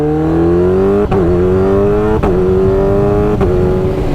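A Kawasaki Ninja H2 motorcycle held at high revs during a failed launch control attempt, a loud, close, steady engine drone broken by three brief stutters as the limiter cuts in, with no talking.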